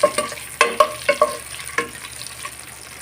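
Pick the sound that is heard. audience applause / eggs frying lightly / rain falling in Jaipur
eggs frying lightly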